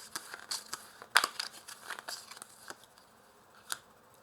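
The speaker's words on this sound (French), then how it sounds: "je mélange avec vos 3 cartes" Tarot cards are shuffled by hand, with crisp papery riffles, flicks and slaps close by in an irregular run of quiet bursts, one louder snap early on.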